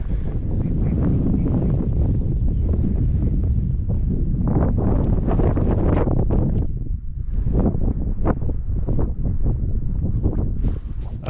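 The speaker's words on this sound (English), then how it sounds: "quite breezy up here. Temperatures drop because of that, a little bit of elevation and because of the wind, the cold wind." Cold wind gusts hard across a microphone on an exposed high stretch of a long-distance military march, a loud continuous roar that rises and falls without a break.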